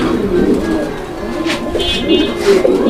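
Pigeons in a fancy-pigeon market, a breeding pair kept among other birds, cooing in low soft rolling calls that repeat steadily over a continuous background of crowd bustle and other birds.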